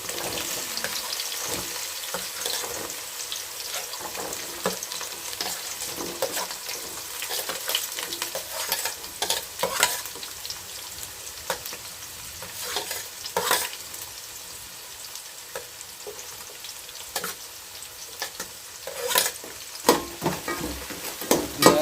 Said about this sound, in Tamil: வெட்டி வச்சிருக்க பெரிய வெங்காயத்தை போட்டுக்கலாம். அது கூட வெட்டி வச்சிருக்க சின்ன வெங்காயத்தையும் சேர்த்துக்கலாம்.